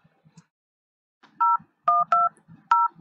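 Telephone keypad tones dialed on a phone, four crisp dual-tone beeps pressed in an uneven rhythm, close and clear, with quiet murmuring voices faintly between them.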